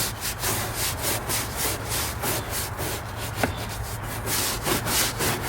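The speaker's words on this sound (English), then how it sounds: "I use a hard brush and get into all these, the fender liner," A hard brush scrubs a Chevy SS fender liner in quick, rhythmic back-and-forth strokes, a close, steady rasping swish repeating about twice per second.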